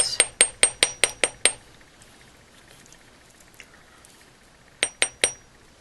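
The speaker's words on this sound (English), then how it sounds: "the final step is just to bring in a bench block and a hammer and give it a few taps." A hammer tapping an 18 gauge wire bracelet on a metal bench block, seven sharp ringing taps in quick succession, a pause, then three more metallic strikes close up.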